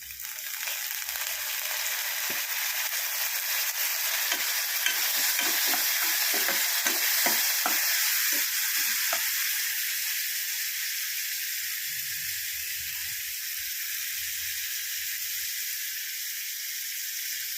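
Onions sizzle and hiss steadily in a hot pan after a splash of salt water, with soft stirring scrapes in the middle stretch, close and fairly loud, no voices.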